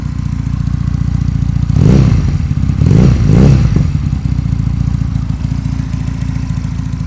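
A 2019 GPX Legend 250 Twin two-cylinder motorcycle engine idles with a rough, thumping rhythm, then revs sharply twice in quick succession before settling back to idle, loud and close.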